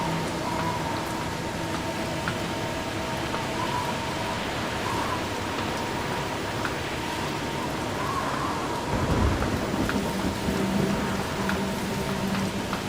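A steady rain-like roar with a low thunder rumble partway through, from a thunderstorm in the truck-driving game Snowrunner, continuous and fairly loud.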